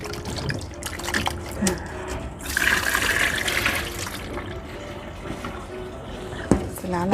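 Raw bananas get rinsed in plain water, with close tap water running and splashing and a brief louder gush in the middle.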